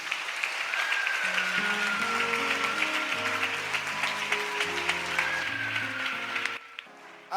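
A church congregation claps steadily at a Sunday service, loud and sustained over soft keyboard chords, then the applause fades out near the end.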